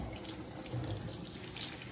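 Tap water runs in a steady, soft splashing stream while a French bulldog is bathed, a faint continuous rush without speech.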